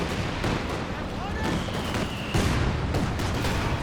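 A Calliope rocket artillery barrage in Company of Heroes 2 pounds a position, a loud, continuous wash of overlapping blasts and rushing rocket whines with sharp impacts breaking through the din.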